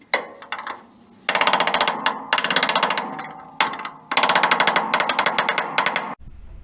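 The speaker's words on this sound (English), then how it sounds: "I've just finished drilling out these," A drill chatters in loud bursts as it bores out spot welds on a Classic Mini floor panel, several rapid rattling runs separated by short pauses, close and harsh.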